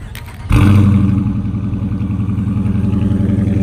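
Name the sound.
2019 Dodge Charger R/T exhaust revving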